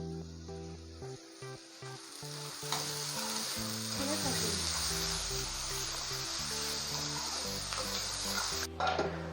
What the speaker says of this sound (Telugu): ఆనియన్ మనకు ఫ్రై అవుతుందండి